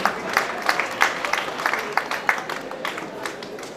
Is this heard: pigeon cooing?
no